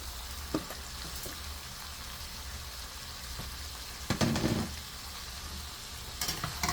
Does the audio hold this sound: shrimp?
yes